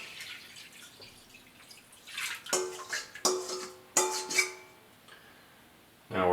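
Brine being poured over bacon, several short splashing pours and drips in bursts, close and fairly quiet, with gaps between them.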